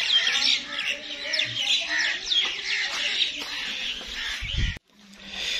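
Birds chirp and call steadily at an animal farm during rain, bright twittering layered over soft patter, ending with a brief close thump before a quieter tail.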